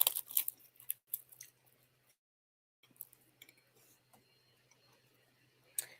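Close to the microphone, someone chews a light crunchy snack with sparse crisp crunches and soft mouth smacks, separated by quiet pauses and a short silence.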